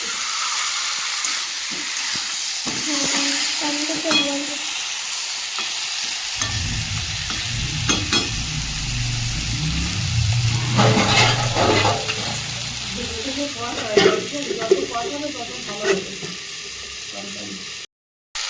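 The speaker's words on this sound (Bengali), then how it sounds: "তরকারিটা চটপট আওয়াজ হচ্ছে" Meat curry with fried potatoes crackling and sizzling in a pan, a soft steady hiss that swells into busy popping and stirring scrapes, with brief voices in the background.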